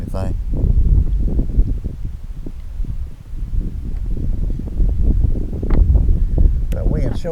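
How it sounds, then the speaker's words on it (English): Strong morning wind blowing by a lake while bank fishing for largemouth bass, a loud, continuous low rumbling buffet across the microphone that swells and eases, with speech heard under it. "That wind sure is kicking this morning"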